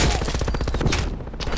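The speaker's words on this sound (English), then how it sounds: "How you just walk through that explosion like that?" A rapid burst of gunfire and blasts in an online first-person shooter match, loud and close, a dense rattling series of sharp hits over about a second and a half.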